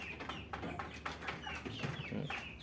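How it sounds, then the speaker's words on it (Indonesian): Young Bangkok chickens in a backyard coop cluck and peep repeatedly at close range, a busy overlapping chorus of short calls with no one talking. "Ini ayam-ayam Bangkok, ini anakan semua."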